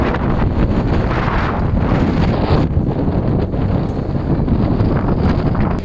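Strong wind at Monte Maria in Lobo, Batangas, Philippines buffets the microphone in a continuous roaring rush, loud and unbroken throughout with no voices.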